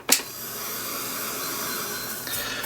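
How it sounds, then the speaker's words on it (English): Heat gun blowing hot air during a crafting project, a steady close whooshing hiss starting with a click and running evenly, with no talk. "now I'm going to give that a blast with the heat gun"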